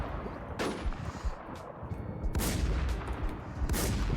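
Gunfire in Warzone 2, with several loud, sharp shots in a burst that echo over a rumbling battle background, close and punchy, and no talking.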